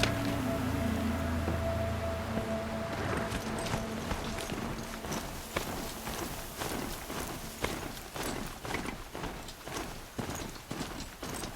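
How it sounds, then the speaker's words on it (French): Horse hooves in the video game Horizon Zero Dawn, a rapid rhythmic clip-clop of galloping that starts after a few seconds and keeps going steadily, loud and close over faint game ambience. "C'est mon cheval."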